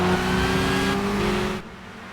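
Race car engine in Gran Turismo 5 roars steadily at high revs, then drops off sharply in the final half-second, with no talk over it.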